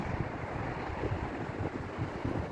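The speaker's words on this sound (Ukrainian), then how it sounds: "На морі хвилі." Rough Black Sea waves on an Odesa beach churn in a continuous low roar with gusty wind buffeting close by, no voices.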